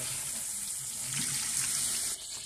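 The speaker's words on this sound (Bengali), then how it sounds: "পানি দিয়ে ভালো করে নেড়ে চেড়ে দেব।" Water pours into a pan of tilapia fish curry as the spices cook, a steady close splashing stream running throughout and easing slightly near the end.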